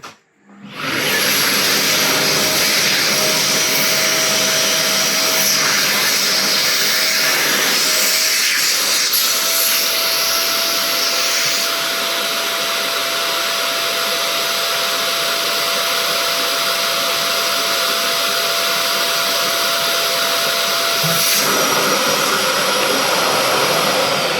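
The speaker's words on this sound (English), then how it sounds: "We do that by putting the string in and sucking it up." A vacuum cleaner drawing string through a large gas lantern, a loud continuous whining roar that holds steady for over twenty seconds after a quick start-up, with a faint tonal hum running through it.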